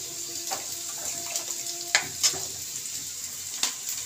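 A little water poured onto fried vegetables in a pan while making vegetable dal, giving a quiet steady sizzle with a few sharp spits and clinks over a low hiss.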